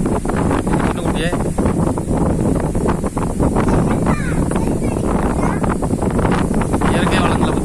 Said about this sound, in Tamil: இந்த காற்று வந்து மேற்கு இருந்து அடிக்குது